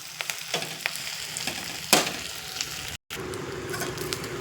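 Curry leaves fry in oil over a low flame, a steady soft sizzle nearby with light crackles and stirring clicks, one brighter burst in the middle and a brief dropout toward the end.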